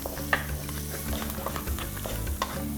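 A teaspoon of turmeric and spices frying in a pan over low heat, giving a steady close sizzle with occasional stirring scrapes and soft utensil clinks, no voices.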